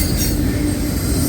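A CSX freight train rolls past with Conrail autorack cars, making a steady, loud rumble of wheels on rail with a metallic squeal running through it, heard up close and with no voices.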